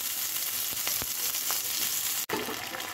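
Ginger, garlic, green chili and curry leaves fry in hot oil for cauliflower 65, a steady close sizzle with a few sharp pops and spatters, no voices.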